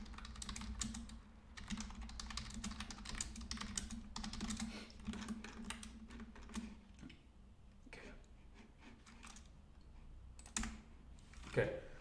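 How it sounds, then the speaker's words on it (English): Typing on a computer keyboard, with a dense run of close key clicks that thins into scattered taps and pauses, then a few last quick strokes, in a quiet room. "I'll type here."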